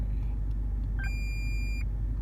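A 2008 Lexus IS-F fitted with a 2011-2014 instrument cluster switching on, giving a short chime of beeping tones for under a second over a steady low idle rumble, fairly close and quiet.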